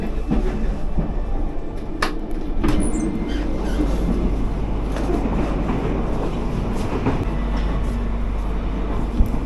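Airport train in Indonesia heard from inside the carriage, a steady loud rumble with rhythmic wheel clicks and faint squeals throughout, no voices.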